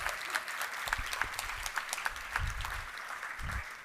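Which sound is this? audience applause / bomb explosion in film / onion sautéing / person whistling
audience applause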